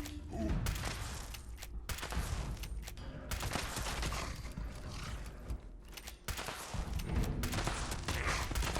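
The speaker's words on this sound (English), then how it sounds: "The lever rifle is one of the most flexible weapons in the game. You can fire from the hip," A lever action rifle fires rapidly in the video game Fallout 76, with dense, loud shots packed closely together and mechanical clatter between them throughout.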